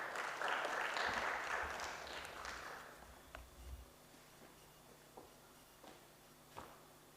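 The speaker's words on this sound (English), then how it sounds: "Another round of applause for Mastula." Audience clapping after a talk at a sociocultural psychology session: a brief burst of applause for the first few seconds that fades out, leaving faint room noise with a few scattered knocks.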